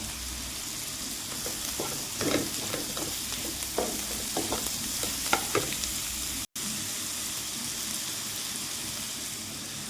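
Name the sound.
chopped carrot frying and being stirred in pan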